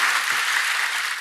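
A church congregation applauds in a short, steady burst of many hands clapping, close and evenly sustained.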